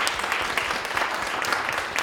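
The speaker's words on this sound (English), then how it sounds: "round of applause" Audience applause at an Internet Society Canada chapter panel event on AI and employment, a dense, even wash of many hands clapping at moderate volume, with faint voices mixed in.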